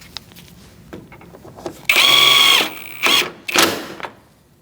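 A power tool drives bolts into the bumper brackets of a 2008-2014 Mercedes-Benz C300, with one loud sustained whirring burst followed by two shorter bursts, all close to the microphone, between quieter handling clicks.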